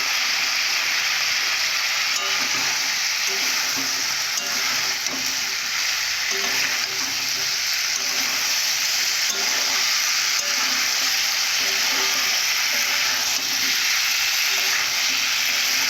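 Vegetables for a potato and okra curry sizzle steadily in hot oil in a pan, a continuous close frying hiss with faint stirring scrapes and no talk.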